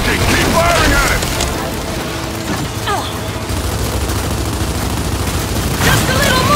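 Sustained heavy gunfire and explosions from the video game Gears 5 on Xbox One, Hivebusters DLC, a dense constant roar with booms, loud and continuous, with voices shouting over it.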